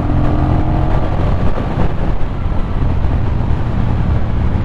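A 2024 Honda CMX1100 Rebel cruiser with its 81-horsepower engine in sport mode pulls hard, a loud, steady engine roar with wind rush building as it accelerates.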